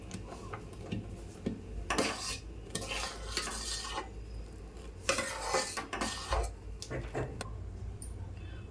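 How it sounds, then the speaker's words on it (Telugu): A spoon scrapes and clinks against a pot as roasted vermicelli is stirred into jaggery payasam, in irregular close bursts over a low steady hum, with no talking. "ఇప్పుడు ముందే వేయించి పెట్టుకున్న సేమ్యాలు వేస్తున్నా వేసిన తర్వాత ఒకసారి కలుపుకోవాలి లేకపోతే గడ్డలాగా అవుతుంది"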